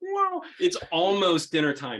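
A cat meows insistently, its drawn-out cries overlapping with a person talking nearby.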